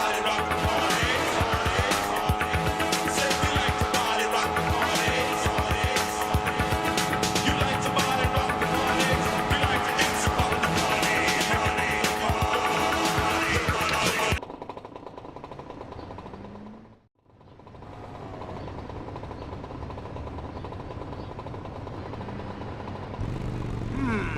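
Motorbike engine and screeching tires in the video game GTA Vice City, a loud continuous revving roar with squeals that drops away, dips briefly to silence, then resumes quieter beneath a faint tone.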